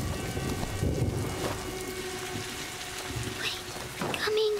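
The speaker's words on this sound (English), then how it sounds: "it's getting later and stormy" Steady rain with a low rolling rumble of thunder in A Plague Tale: Innocence as the weather turns stormy, a constant close wash of falling water with a few sharper spatters and brief tones near the end.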